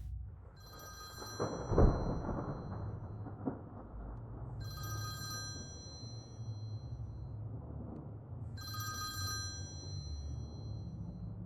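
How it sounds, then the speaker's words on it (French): Telephone rings in the horror video game Faint Call, three bursts of bright, repeated bell trills spaced about four seconds apart over a low rumbling ambience, loud and close with no talk. "Me dis pas que c'est ce téléphone-là qui fait ça."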